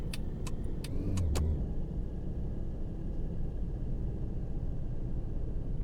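A taxi drives at night in the Taxi Life video game, its engine a steady low rumble that fills the whole stretch, with a few sharp clicks near the start.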